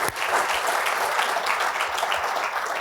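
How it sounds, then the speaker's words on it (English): Lecture audience applauding at a business ethics event, a dense steady wash of many hands clapping at once, fairly loud and continuous throughout without any talk. "we're going to have to do a round of applause"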